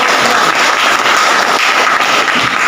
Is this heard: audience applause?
yes